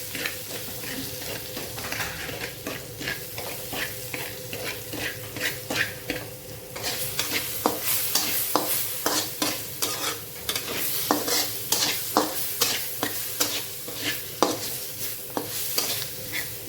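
Beef samosa filling, seasoned with turmeric and salt, is stirred and fried in a pan, with repeated scraping strokes of a spoon over a steady close sizzle.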